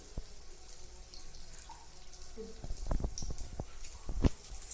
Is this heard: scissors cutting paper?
no